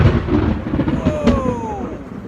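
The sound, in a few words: thunder from an approaching thunderstorm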